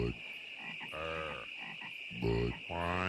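Frogs croaking in the Budweiser Frogs television commercial, a few deep, throaty croaks spaced apart over a steady background hiss, with no talking.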